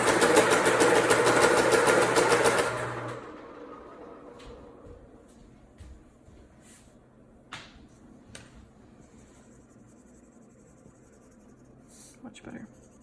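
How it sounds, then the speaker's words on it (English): A pencil is ground in a sharpener in a brief, dense burst of scraping for about three seconds, then the sound stops and a few faint clicks and taps follow in a quiet room. "I'm gonna go ahead and sharpen my pencil."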